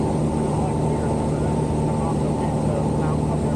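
A steady, loud drone from a small airplane cabin in flight, engine and propeller noise filling the whole stretch without a break.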